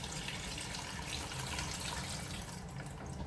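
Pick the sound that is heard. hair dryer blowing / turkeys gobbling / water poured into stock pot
water poured into stock pot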